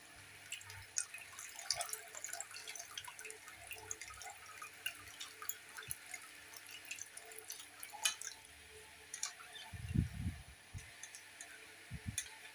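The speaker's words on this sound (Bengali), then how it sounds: "চেপে চেপে জলটা বের করে নিয়েছি।" Salted, washed raw mango pieces are squeezed by hand to press the water out, giving faint, sparse drips and soft wet squelches in a quiet kitchen, with a few low thumps near the end.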